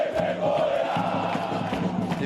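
Football supporters protest outside São Paulo's Morumbi stadium after a match, their chanting voices merging into a rough, rhythmic crowd noise with repeated pulses.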